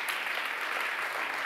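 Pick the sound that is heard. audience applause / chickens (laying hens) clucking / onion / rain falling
audience applause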